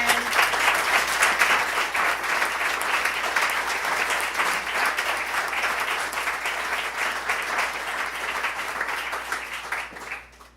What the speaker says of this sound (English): Let's give it a round of applause for Kathleen, for Sandi, for Karen.